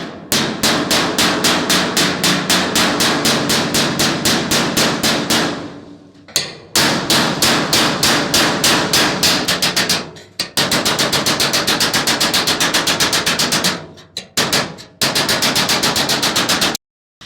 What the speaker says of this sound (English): I'm going to hammer that down while I got pressure on it.